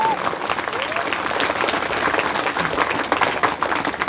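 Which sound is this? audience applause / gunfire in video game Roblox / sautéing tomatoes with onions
audience applause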